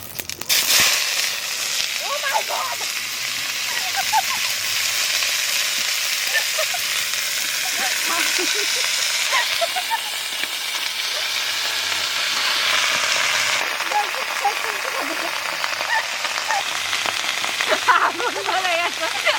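Dried red chillies and cumin, then mixed fresh vegetables, sizzle in hot oil with a loud, continuous crackling fry that swells as the vegetables go in, with occasional stirring scrapes and faint voices in the background.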